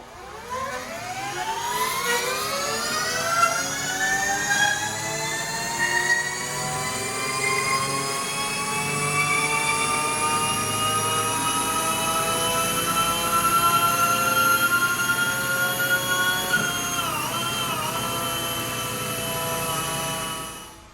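A Sur Ron 72v electric motorbike makes a full-throttle dyno pull, its motor whine climbing steadily in pitch for about twenty seconds, loud and close with no exhaust noise, then wavering briefly and cutting off.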